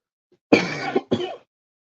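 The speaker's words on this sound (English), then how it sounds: "that's my cold making me cough, not the alcohol" Two short, close coughs from someone with a cold, a longer one followed by a brief second, after a near-silent start.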